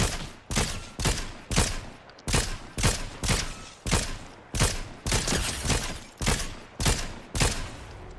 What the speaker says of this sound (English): they're shooting another team